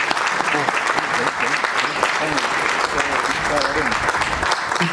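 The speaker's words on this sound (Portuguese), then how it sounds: "eu ia pedir uma salva de palmas" An audience gives a steady round of applause, dense clapping filling the whole stretch at a constant level, with some murmuring voices mixed in.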